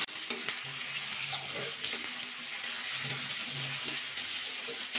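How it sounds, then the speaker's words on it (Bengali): Pumpkin pieces stirred in a hot pan sizzle steadily, with soft scraping strokes of the spoon repeating every second or so at close range. "ঢাকাটা খুলে আবার নাড়াচাড়া করে নেবো একটু।"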